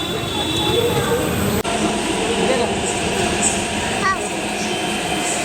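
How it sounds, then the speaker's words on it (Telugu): A train rumbles through a metro station with steady mechanical roar, a faint wheel squeal and voices talking nearby. "ఇక్కడైతే మెట్రో స్టేషన్కి అయితే వచ్చినాం"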